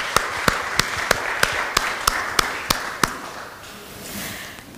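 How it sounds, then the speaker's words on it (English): About ten sharp, well-spaced claps in a lecture hall ring out in a slow, even rhythm, then fade into soft room noise. "So round of applause one more time."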